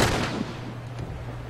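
A bomb explosion in the video game The Last of Us bursts loudly at the start and decays into a rumbling tail with a steady low hum beneath.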